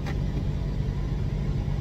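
A 2003 Mitsubishi Montero SUV creeping along in four-wheel low, a steady, loud low engine rumble heard from inside the cabin with no pauses.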